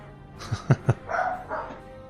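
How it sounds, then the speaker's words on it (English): A dog barks indoors in a quick burst of two or three sharp yips, followed by a softer whine or grumble, fairly close and with no talk over it. "Excuse my dog."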